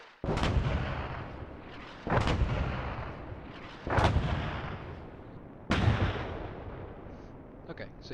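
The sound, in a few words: mortar rounds landing and exploding in an artillery video game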